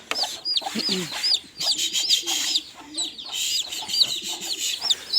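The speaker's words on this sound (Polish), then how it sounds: "Tu widzicie już trzy nowe kurczaki." Several chickens cluck and squawk close by in short, overlapping bursts, with a lower voice murmuring briefly underneath.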